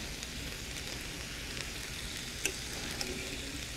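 Steaks frying in a restaurant pan after a brandy flambé, a continuous crackling sizzle with a few sharp pops, close and steady with no talking.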